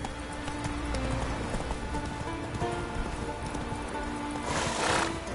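A horse named Roach gallops in a video game, a rapid steady clip-clop of hooves running continuously and fairly close, with a brief whoosh of added noise near the end.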